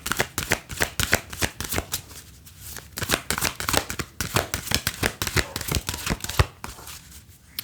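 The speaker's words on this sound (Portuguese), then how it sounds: "Agora eu vou tirar mais umas cartas do Moonology pra ver o que sai" Moonology oracle cards being shuffled by hand in a fast, continuous riffling flutter, close and fairly quiet, with no voices.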